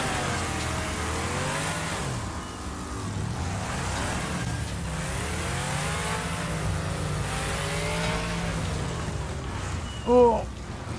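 Race-car engines rev and drone continuously in the Wreckfest demolition-derby video game, with shifting pitch and a short sharp impact near the end.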